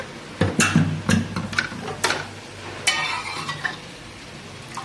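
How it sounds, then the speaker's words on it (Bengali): Sambar masala and cooked dal being sautéed and stirred together in a kadai for Bengaluru-style sambar dal: a series of distinct scraping stirring strokes over a faint sizzle, close and fairly loud, with no talking. "সাম্বার মশলাটা দিয়ে দিচ্ছি দিয়ে আবারও কষে নেব"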